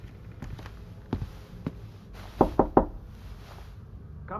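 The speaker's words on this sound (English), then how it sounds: "Should I knock on the door" Three sharp knocks on a wooden door in a video game, evenly spaced and fairly close, following a few softer taps or footsteps over a quiet room tone.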